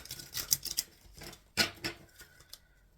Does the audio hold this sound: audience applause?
no